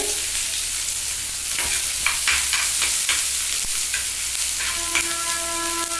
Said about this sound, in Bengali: পেঁয়াজটা একটু হালকা ভেজে নিচ্ছি এটা একটু গ্যাস কমিয়ে করছি